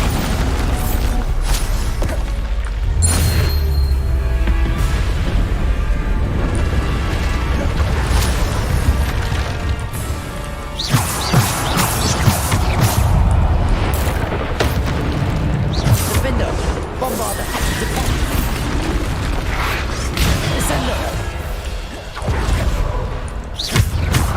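Repeated Bombarda spell explosions in Hogwarts Legacy go off as booming, crashing bursts again and again through a dense, loud game soundscape, with a voice calling out spell names over the blasts.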